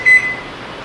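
A microwave oven being set to bake a chocolate mug cake gives one short, clear beep close by, followed by faint steady room hum.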